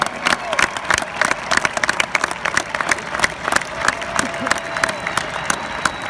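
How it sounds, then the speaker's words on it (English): Crowd applause and cheering honor Medal of Honor recipients at a film premiere, steady dense clapping throughout with scattered whoops and a voice briefly heard underneath. "Let's hear it for those Medal of Honor winners"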